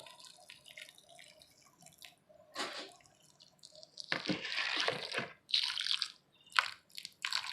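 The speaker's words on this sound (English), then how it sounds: "And then I'll take the water that it was soaking in. Actually, use that to water it." Leftover soaking water poured onto a potted ginger plant, heard close as irregular wet drips and short splashy trickles, growing into louder bursts of pouring toward the end.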